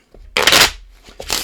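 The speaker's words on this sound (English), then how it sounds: "we'll give it a few shuffles there" Playing cards being shuffled for a two-player poker game, a loud riffle burst followed by a second shorter riffle a moment later, close and with no talk.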